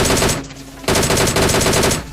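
Rapid automatic gunfire in a battle royale mobile game, a loud close burst of shots, a brief pause, then another sustained burst of rattling fire.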